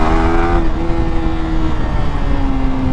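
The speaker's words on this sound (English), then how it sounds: "Listen to that exhaust" A Yamaha R15 V4 sport bike's exhaust screams at high revs near 13,000 RPM, a loud sustained whine that climbs and shifts pitch as it rides along.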